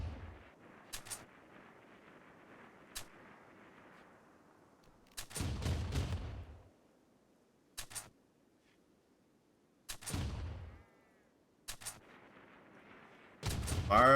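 Gunshots from the colony combat game RimWorld, sharp isolated cracks and short heavy bursts spaced irregularly over a low steady background hum, with no voices.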